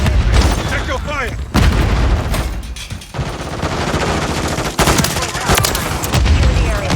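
Akimbo shotguns blast repeatedly in Modern Warfare 3, loud booming shots landing in irregular bursts amid game effects and radio chatter voices.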